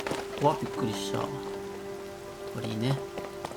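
Rain patters steadily in Zelda: Tears of the Kingdom, a soft continuous hiss under a sustained musical tone. Short vocal grunts and exclamations break in over it.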